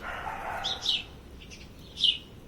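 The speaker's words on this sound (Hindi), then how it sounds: "आपको इन गौरैयों की आवाज़ सुनाई दे रही होगी।" House sparrows, a mother and her young chick near a tree, give a few short, high chirps spaced apart over a faint outdoor background.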